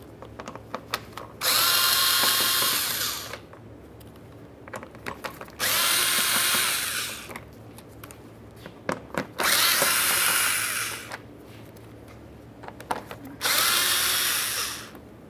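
A power drill spins out Phillips head screws under the front bumper of a 2012-2018 Nissan Altima, giving four loud, close whirring bursts of a couple of seconds each, separated by quieter handling clicks.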